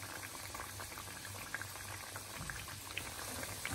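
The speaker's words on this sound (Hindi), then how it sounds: "ये देखिए हम इसको 5 मिनट से फ्राई कर रहे हैं" Mathri frying slowly in oil on a low flame, a steady soft bubbling and sizzling with faint pops throughout, fairly quiet and with no talking.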